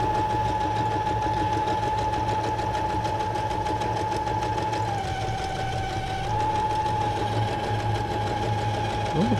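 A sewing machine stitches fabric in a steady, continuous mechanical whir with a fast rhythmic clatter, running close and evenly throughout with no pauses and no talking.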